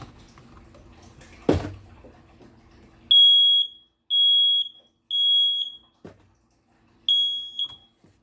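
A household smoke detector sounds during a home alarm system test, giving four loud, piercing electronic beeps in a regular pattern after a brief clatter. The beeps are close and there is no talking.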